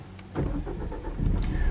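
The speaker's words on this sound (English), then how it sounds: "press that button one time, and the car comes into life." A Mazda 2 with a 1.5 Skyactiv-G mild-hybrid petrol engine cranks and fires after a push-button start, then settles into a steady idle rumble close by.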